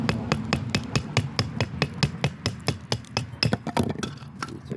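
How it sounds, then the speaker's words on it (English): Firewood being split into quarter pieces with repeated hammer blows, a steady series of sharp, near knocks about four per second that speeds up slightly toward the end, with a low hum underneath. "Hammering it down"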